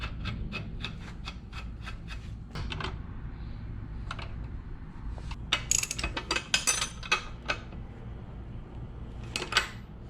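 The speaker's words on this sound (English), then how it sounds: "Bolt the axle back on." A ratchet wrench bolts the axle back onto a Doodlebug minibike in a workshop, giving several short bursts of quick, close metallic clicks separated by pauses over a low steady background hum.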